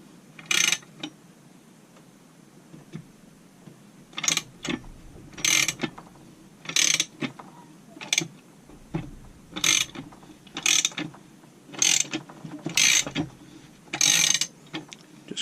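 Ratcheting clicks from a second-generation case assembly tool being cranked down on a 394 engine case, short bursts of rapid pawl clicks repeating about every second or so with quiet pauses, close up and without speech.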